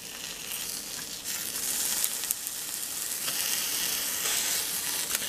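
A BLT sandwich sizzles on a Dash mini griddle, a close, steady crackling fry with a few light scraping taps as it is turned.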